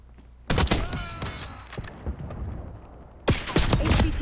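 Bursts of automatic gunfire in the video game Black Ops 6, two loud close volleys with thuds and scattered shots between, mixed with game sounds.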